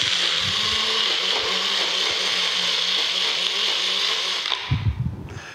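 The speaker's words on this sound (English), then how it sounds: "Put the lid on the blender and blend them till they're smooth." An electric blender purees warm cooked sausages until smooth, giving a loud, steady high-pitched whir that runs for several seconds before winding down with a few low thumps near the end.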